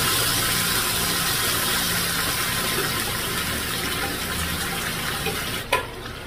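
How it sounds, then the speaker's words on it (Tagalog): Pineapple juice pours steadily into a container in a home kitchen, a continuous close liquid rush with a small splash near the end and no talking. "Lagyan natin yung pineapple juice."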